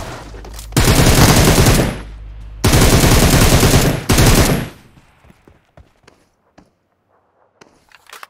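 Loud automatic gunfire in PUBG Mobile: two long rapid bursts and a shorter third, all close, followed by quiet scattered footsteps and small clicks.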